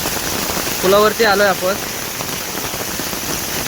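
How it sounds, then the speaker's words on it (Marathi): Heavy rain pours by a creek in the Konkan, a steady broadband hiss that fills the whole clip, with a voice speaking briefly near the start over it. "आणि पाऊस बघतोय खाडीला जाम पडतोय"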